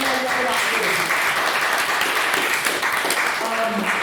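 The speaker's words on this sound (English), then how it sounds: "Can we have another round of applause for all our speakers?" An audience at a student debate applauds its speakers, a dense, sustained round of clapping with a few cheers and faint voices mixed in.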